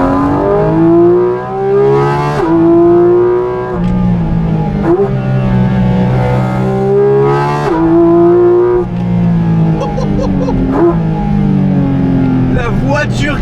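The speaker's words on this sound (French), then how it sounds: "la voiture qui fait le bruit le plus assourdissant au monde à l'intérieur. J'ai jamais entendu un truc pareil. Écoutez ce bruit. L'admission d'air qui vient de là." Porsche 718 Cayman GT4 RS engine and air intake roaring from inside the cabin, a loud continuous howl rising and falling through repeated revs and gear changes, with sharp pops near the end.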